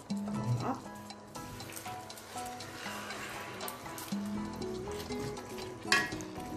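A whole chicken cooks in a cast-iron pot with about a glass and a half of liquid, giving a soft, continuous sizzle and bubbling. A voice talks faintly over it.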